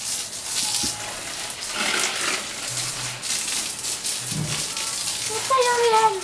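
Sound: water spraying from a garden hose onto the patio

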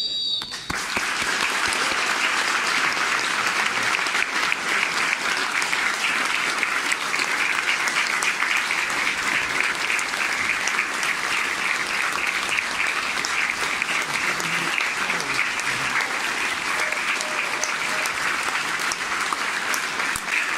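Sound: stadium crowd applause before football match

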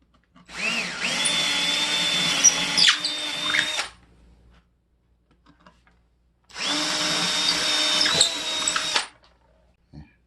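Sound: power drill boring 8mm hole in drywall

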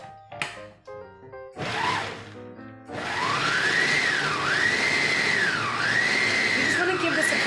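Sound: food processor pulsing basil pesto with walnuts

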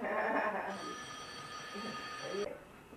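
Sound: telephone ringing

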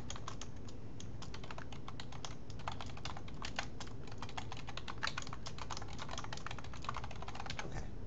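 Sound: typing on a computer keyboard

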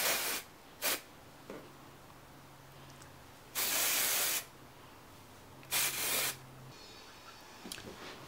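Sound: Redken hair spray sprayed into hair roots

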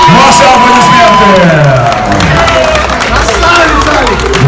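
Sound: crowd applauding and cheering the new MMA champion

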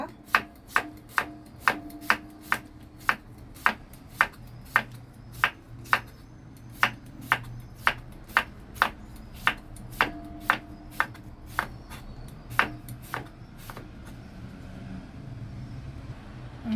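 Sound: knife slicing cucumber on cutting board

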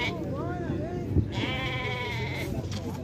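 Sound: sheep bleating at livestock fair

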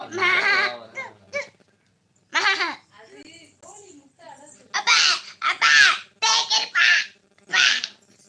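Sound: child imitating a goat bleating

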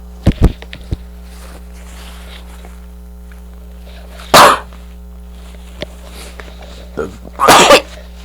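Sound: person sneezing

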